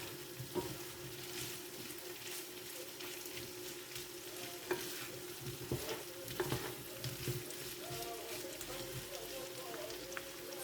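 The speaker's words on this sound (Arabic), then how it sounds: "وهذاك البصل كاع ولا كاراميليزي" Onions caramelize in a hot pan as they are stirred for a rice-vermicelli side dish with Brussels sprouts, making a soft, continuous sizzle broken by occasional scrapes and clinks of the utensil, with faint talk nearby.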